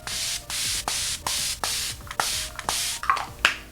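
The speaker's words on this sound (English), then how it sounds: "I'm going to go with some setting spray." Seven or eight quick hissing bursts of a spray mist, evenly spaced and close, each a short puff followed by a brief pause.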